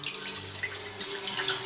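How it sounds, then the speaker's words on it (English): Water pours steadily into a cooking pot being readied to soften carrots and potatoes for beef stew, a continuous hissing stream filling the pot with no talk over it. "Let's add some water down into this pot right here."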